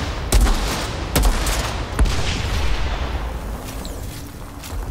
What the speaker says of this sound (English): This sniper's pretty good for a beginner sniper.